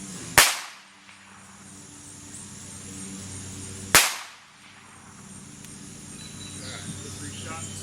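Two sharp, loud cracks from a .22 target pistol fired about 20 yards away, spaced several seconds apart, each decaying quickly into outdoor ambience with faint insects.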